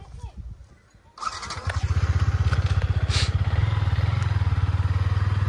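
A modified 2024 Hero Splendour motorcycle starts after a quiet clatter, then its engine idles steadily and loudly up close with a rapid, even throb.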